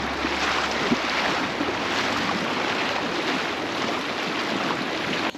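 A boat runs through choppy water as the weather worsens, with a steady loud wash of spray, waves and wind buffeting the microphone, and a low engine drone beneath.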